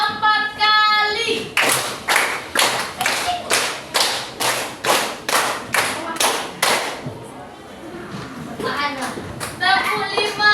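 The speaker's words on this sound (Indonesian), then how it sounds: "Tepuk 3 4 kali." Children in a classroom guidance session clap together in a rhythmic pattern: about a dozen crisp, evenly spaced unison claps, loud and close, with a voice and an adult's speech before and after.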